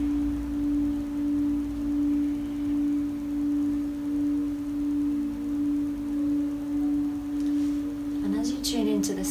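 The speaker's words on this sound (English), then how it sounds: "Tune into the sound of this beautiful singing bowl." Singing bowl ringing with a sustained, pure resonant tone that slowly pulses in loudness, steady throughout before a few soft rustling knocks near the end.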